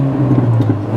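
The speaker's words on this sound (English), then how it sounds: "so you can hear how smooth the engine is" Engine of a 2006 Mini JCW GP World Challenge race car, heard from inside with windows up, holding a loud, smooth, steady drone that swells slightly as it accelerates.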